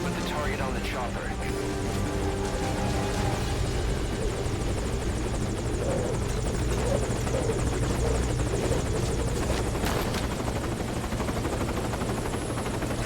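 A Metal Gear Solid V helicopter sits at a landing zone, its rotor churning in a loud, continuous drone while radio voices speak over the noise.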